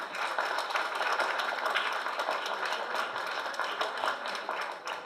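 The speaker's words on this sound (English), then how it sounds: "please hold the applause, folks" An audience at a community board meeting claps steadily, a dense, even patter of many hands sustained throughout with no talking.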